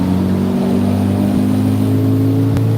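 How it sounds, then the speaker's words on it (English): A speed boat engine revving on the throttle, a loud steady droning hum with a slight dip midway, close and continuous without voices. "When I hit that throttle though"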